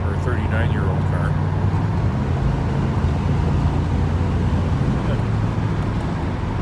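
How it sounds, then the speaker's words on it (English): A stock 1981 Turbo Trans Am runs under acceleration with its turbo kicking in, a loud steady engine drone and road rumble continuing throughout, with a voice talking over it. "I could hear the turbo when I hit the gas pedal."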